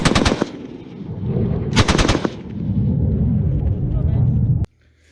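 Pistol shots, likely a 1911, fired outdoors: a rapid burst of sharp cracks at the start, another quick cluster near the middle, with rumbling echo and background noise between, ending abruptly.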